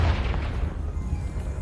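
A Confringo fire spell blasts in Hogwarts Legacy, a deep rumbling explosion that booms loud and close, then rolls on as a low sustained roar for over a second with no talk over it.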